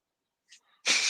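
A single sharp sneeze bursts out after a brief breathy intake, close and fairly loud.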